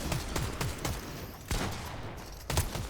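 A powerful gun in the video game Fortnite fires rapid, punchy shots, several clustered in the first second and more in separate bursts after that, loud and close over a busy game background.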